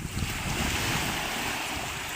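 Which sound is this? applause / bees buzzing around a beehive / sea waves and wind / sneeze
sea waves and wind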